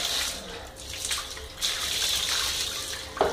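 Warm water running from a tap while a dog is bathed, a steady splashing hiss, close and continuous, with a small splash near the end.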